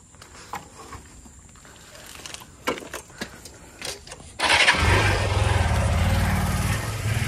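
A motorcycle engine starts up outdoors at a dam, first some handling clicks and rustle, then a sudden rise into a steady, close idling rumble that continues to the end.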